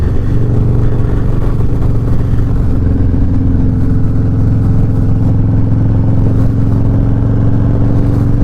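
Harley-Davidson Low Rider S motorcycle with a Red Shift 468 cam rolling on in third gear, a loud, steady, deep engine drone with wind rush heard from the rider's seat, no pauses and no speech.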